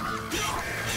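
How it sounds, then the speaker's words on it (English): Crows in MediEvil give a harsh, raspy caw, a brief close call standing out over a dense game soundscape, with no talking. "Lots of crows."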